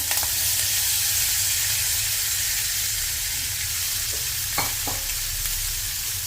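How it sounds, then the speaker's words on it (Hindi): Chana dal and green chillies fry in hot oil in a kadhai, giving a loud, steady sizzle that runs the whole time, with a few short clinks of a spoon stirring near the end. "तेल हमारा गर्म हो गया, इसमें हरी मिर्च डालेंगे। अब इसमें दाल डाल देंगे।"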